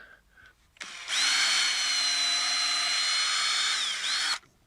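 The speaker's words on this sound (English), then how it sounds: "So I'm just going to take my drill," A power drill bores a pilot hole through timber, starting with a brief spin-up, then a loud, steady whine held close for about three seconds before it dips slightly and stops abruptly.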